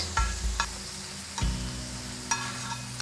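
Chili powder, garam masala and goda masala frying in a pan for a Maharashtrian stuffed whole chicken, a low continuous sizzle broken by a few sharp clinks and scrapes of a stirring spoon.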